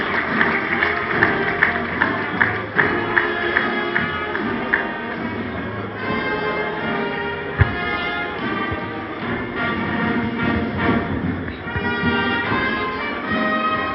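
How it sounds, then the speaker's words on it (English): Sustained applause and crowd noise fill the hall at a leadership awards ceremony as an agency director general comes forward, with music playing underneath and a few sharper claps standing out. "Please, can we give the DG a wonderful round of applause"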